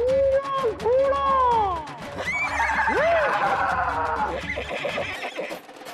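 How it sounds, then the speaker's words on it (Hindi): A horse neighs in a loud, shrill whinny with rising and falling pitch, followed by a second shaky whinny, over busy background noise and chatter. "घोड़ा।"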